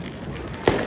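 A single sky shot firework bursts during Diwali celebrations on a rooftop, one sharp boom standing out over a steady background wash of outdoor noise.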